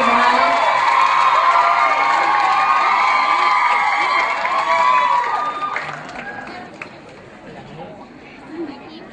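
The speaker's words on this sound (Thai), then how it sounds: "ขอเชิญพบกับการประกวดกองเชียร์ของสีฟ้าค ่ ะ" Crowd cheers and shouts loudly during the blue team's cheerleading squad performance at a cheerleader contest, a dense roar that fades after several seconds into quieter chatter.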